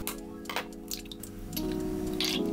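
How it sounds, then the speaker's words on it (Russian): Three eggs whisked in a deep bowl for a fraisier sponge: quiet, wet, rhythmic squishing and clicking strokes, close and low, followed by a steadier buzzing hum near the end, no talk. "В глубокую емкость взбиваю 3 яйца"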